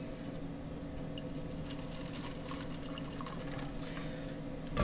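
Two ounces of sour mix pour into a whiskey cocktail, a soft steady liquid stream running continuously and quietly.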